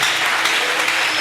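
A church congregation at a Friday service applauds in a dense, loud, sustained burst of clapping that fills the whole short moment, a few voices mixed faintly into the noise.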